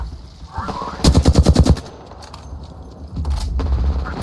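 Rapid automatic gunfire from a Halo video game, a loud burst of about eight evenly spaced shots lasting under a second, followed by quieter game noise and another rumbling stretch of combat.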